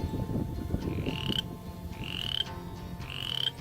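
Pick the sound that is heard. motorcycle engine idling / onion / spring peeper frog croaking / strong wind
spring peeper frog croaking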